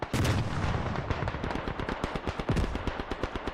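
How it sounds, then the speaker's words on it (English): Dense gunfire and explosions from the WWI shooter game Beyond the Wire, rapid overlapping shots and booming blasts rolling on continuously at moderate loudness with no talk. "Now that we're hearing all these gunshots and explosions, maybe lower the in-game volume down"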